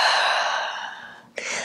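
A long, breathy exhale through the mouth during a yoga breathing exercise at home, close and steady as it fades, followed by a quick sharp inhale near the end.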